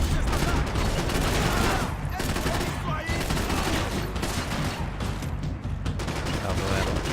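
Dense gunfire from the third-person shooter Max Payne 3, a near-continuous fusillade of shots and bursts filling the whole stretch at steady loud level, with no speech over it.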